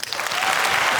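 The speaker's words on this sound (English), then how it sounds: "give her a round of applause, Alvera Lewis." Conference crowd at World Employer Branding Day 2024 bursts into loud applause for the next speaker taking the stage, a dense wash of clapping that swells quickly and holds for a second.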